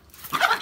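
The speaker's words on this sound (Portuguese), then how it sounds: "Do nada eu vi ele aqui latindo, fui ver." A Pinscher barks at a frog outdoors, giving a short, fairly close yappy bark that rises and then holds briefly, heard alone.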